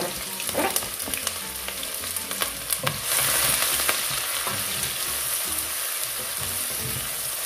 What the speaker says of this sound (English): I'll go ahead to start frying our onions